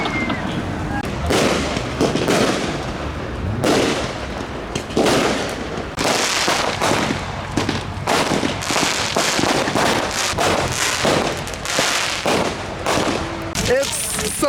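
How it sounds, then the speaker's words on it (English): Fireworks explode continuously at a night drift-car meetup, dense rapid crackling bursts and booms that stay loud throughout, with people talking and shouting underneath. "Oh my god, fireworks."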